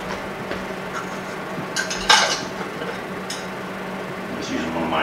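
A reusable Tattler lid goes onto a jar of tomato seeds, giving a couple of short clinks and a brief scrape over a low steady room hum, close by, with no words spoken.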